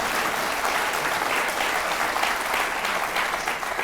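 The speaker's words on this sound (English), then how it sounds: "He actually doesn't need the applause." Audience applause at a live evening talk event, a dense sustained clapping from a large crowd that stays even and fairly loud throughout.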